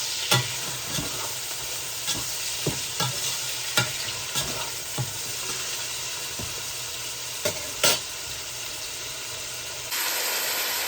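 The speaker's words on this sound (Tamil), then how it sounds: "வெங்காயம் பச்சை மிளகாய் எல்லாம் வதங்கட்டும்." Onions and green chillies, salted, sauté in a pan for a home-style mutton curry, giving a steady loud sizzle and hiss with occasional scrapes and stirs of a utensil against the pan, and no talking.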